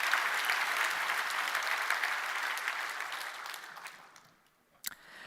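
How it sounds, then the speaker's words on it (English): Conference audience at a HashiConf keynote gives a round of applause after a talk, dense steady clapping that fades out near the end, followed by a brief sharp sound. "Can we just give Dan one more quick round of applause?"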